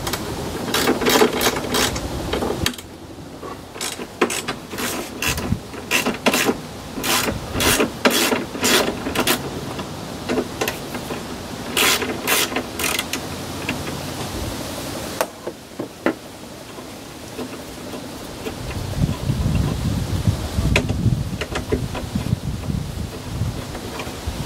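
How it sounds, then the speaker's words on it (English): On a BMW E46 M3, a regular wrench ratchets off the 13mm strut bar bolts, producing bursts of sharp metallic clicks in quick runs, separated by pauses and light handling knocks. "2 30mm bolts on each side, just your regular wrench under the bolts"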